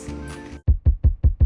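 Second layered kick drum with similar EQ, in a beat: five punchy, low, booming thumps at a steady pace, following a brief stretch of denser tonal sound.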